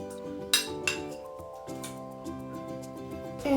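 Tablespoon clinking against a pan while butter goes in, with a couple of bright metallic taps over a steady ringing, humming background in a home kitchen.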